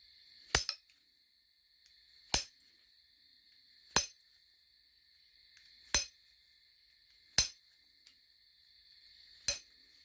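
Black Fort Payne chert being flintknapped by hand without abrading, six sharp isolated clicking strikes spaced about every one and a half to two seconds, close and crisp against near silence.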